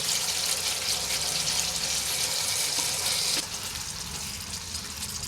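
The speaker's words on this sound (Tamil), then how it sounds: "இப்போ மஷ்ரூம் சேர்த்துக்கலாம்" Mushrooms go into a pan of cooking masala for mushroom gravy, setting off a loud, broad sizzle that drops sharply midway and continues as a quieter hiss.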